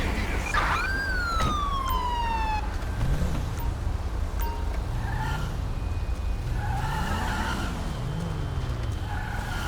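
A police car siren in the video game GTA 5 wails through a rising and falling sweep over steady engine and road noise, with a skid near the start and faint game radio chatter.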